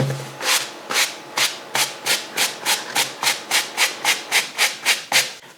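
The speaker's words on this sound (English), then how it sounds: "We're gonna do a final brushing first." A brush scrubs a Nike SB Dunk sneaker in steady back-and-forth strokes, about fourteen rhythmic swishes, close and clear with no talking.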